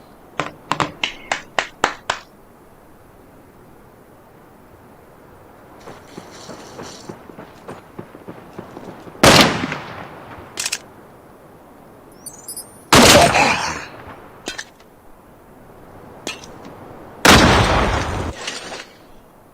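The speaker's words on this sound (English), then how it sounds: "Semtex out!" Call of Duty Mobile match with a Semtex grenade blast and gunfire: a rapid burst of sharp shots, scattered quieter pops, then three loud booming explosions spaced several seconds apart.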